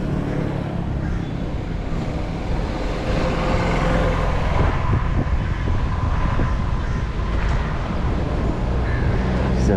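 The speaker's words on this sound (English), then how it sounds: "Pretty noisy on this road, mainly because of the tuk-tuks, loud tuk-tuks." Loud tuk-tuks on a noisy road near Diani Beach in Ukunda, Kenya, giving a steady, dense roar of engines and passing traffic that continues without a break for about ten seconds.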